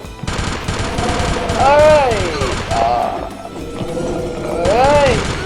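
Bullets firing in the video game Killer Bean Unleashed, rapid gunfire bursts mixed with whooshing game effects and music, with someone talking over much of it.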